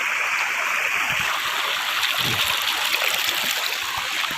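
A small creek flows steadily over rocks, a continuous close wash of water with light splashing and gurgling throughout, no voices.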